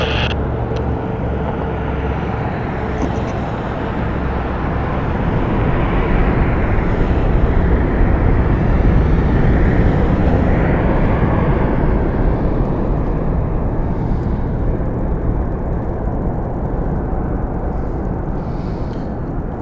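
A Southwest Airlines aircraft departing Las Vegas Harry Reid International Airport, a loud, steady broadband jet engine roar that swells slightly in the middle and holds strong throughout, with no talk.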